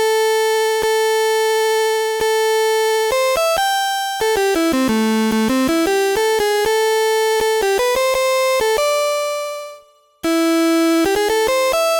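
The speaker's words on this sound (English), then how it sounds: "we have two different types of reverb" Steady tones from a Liven XFM synthesizer step through changing pitches, each note ringing with a lingering reverb tail before a brief cutoff of silence.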